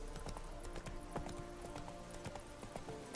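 Hooves of the horse Roach clip-clopping in The Witcher 3, a quick steady trot of distinct hoof beats over ambient game sound, with no speech.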